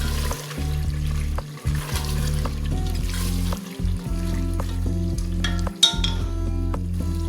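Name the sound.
green chillies frying in aloo gosht masala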